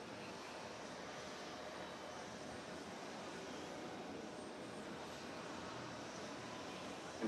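KLM airliner approaching to land at JFK, a steady, faint, distant engine roar that holds evenly throughout with no talk.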